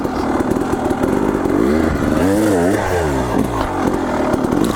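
An enduro motorcycle climbs over a log on a hillside trail, its engine loud and close, revving and bogging in rising and falling pitch sweeps, with no voices.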